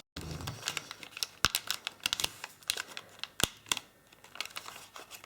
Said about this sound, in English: Flattening that paper completely.